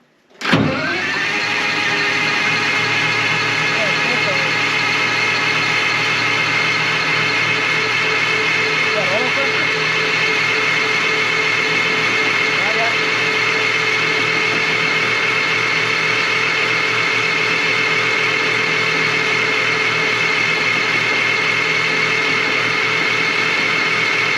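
A Detroit 4-71 diesel engine on an old LeTourneau Westinghouse scraper that has not run in years: a loud, steady whirring crank begins abruptly and drones on without a break for over twenty seconds.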